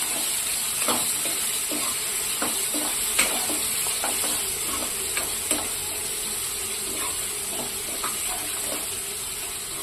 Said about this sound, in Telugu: అప్పటి వరకు అలాగే ఫ్రై అవ్వనివ్వండి.